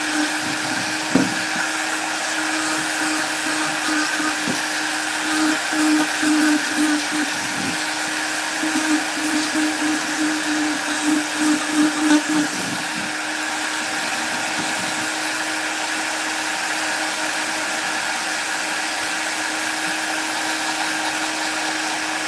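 Steady high-pitched whine of a power carving tool cutting a wooden gnome home, rounding a window frame; continuous and close, with the pitch dipping and roughening slightly as the bit bites into the wood.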